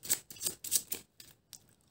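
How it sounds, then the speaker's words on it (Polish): A deck of game cards is shuffled for a solo board game, giving several quick riffling bursts up close that are fairly quiet and fade into short separate flicks. "Karty przetasowujemy."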